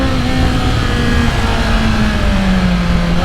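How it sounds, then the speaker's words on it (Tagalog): A BMW S1000 motorcycle with its silencer removed revs loudly and steadily, a dense, raw, car-like engine roar close by, the pitch sliding slowly downward as the revs ease. "sobrang ingay, no? Gayong tinanggal natin yung silencer niya."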